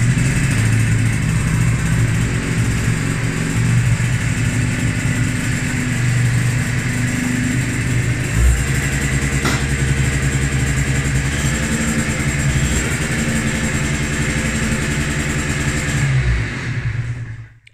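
A kick-started Aprilia SR70 scooter engine runs steadily and loud nearby, with a brief dip in revs around the middle before settling back, then cuts out at the very end.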